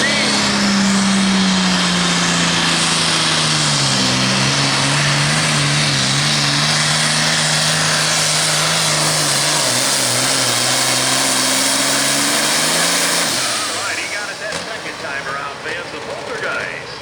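A loud tractor-pulling engine roars under heavy load at a 9,300 lb pro pulling event, its droning pitch sliding lower and wavering, then cutting away near the end as the noise thins out.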